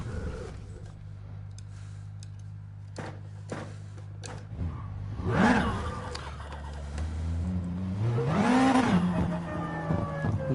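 A turbocharged car in GT Sport lets out a loud turbo dump valve whoosh and flutter as the throttle lifts, set against a low engine drone and rising revs, with brief clicks and the engine surging again afterward.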